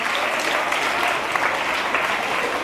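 Audience applause at an inter-school speed-arithmetic competition ceremony in Abidjan, steady dense clapping from a crowd filling the whole stretch at an even level.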